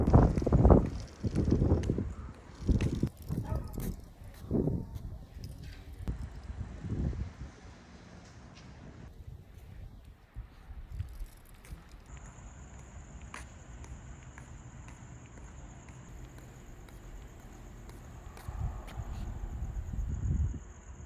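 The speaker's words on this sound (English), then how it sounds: "Got some wind today in the Vegas Valley." Wind sweeping through the Vegas Valley buffets the microphone in strong low gusts that are loud early on, then settles into a steadier rush with a faint high tone in the background.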